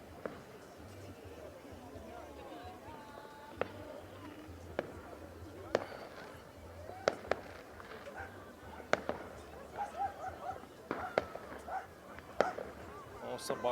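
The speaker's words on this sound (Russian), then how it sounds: "Салют он бахкает там" Distant New Year's Eve fireworks over the seafront in Yalta, Crimea, a scattered series of sharp bangs and pops rising over a busy crowd murmur, with people talking throughout.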